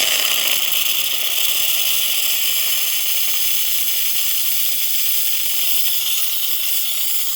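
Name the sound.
steam from Philips coffee machine steamer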